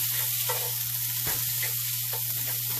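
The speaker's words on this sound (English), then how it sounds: "I am throwing it into my screaming hot skillet" Meat sears in a screaming hot cast iron skillet, a loud continuous close sizzle with a steady hiss and a low hum beneath.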